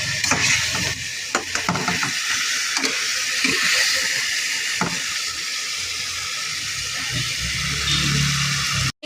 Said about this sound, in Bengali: মাছটাকে কষিয়ে নিচ্ছি।